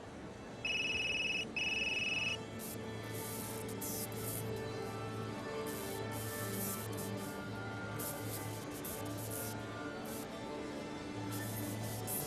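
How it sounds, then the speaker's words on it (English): A telephone rings in the video game Unheard, two loud electronic trilling bursts early on, followed by a steady hum and muffled background murmuring. "Oh, phone call."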